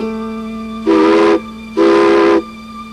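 A steam locomotive whistle sounds two loud, breathy blasts with a short gap between, over a steady low hum, as the train departs Silverton.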